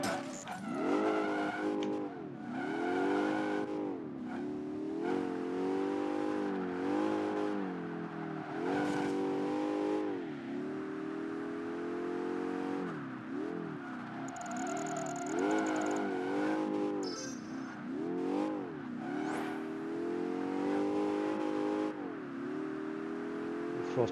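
A race car in Project Gotham Racing 3 on the Xbox 360 revs hard through repeated rising and falling gear sweeps, with tire squeals and skids as it drifts through corners, loud and continuous.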